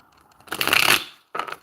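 Tarot cards shuffled up close in two quick bursts of riffling and sliding, a crisp papery rush, then a short pause and a second briefer shuffle.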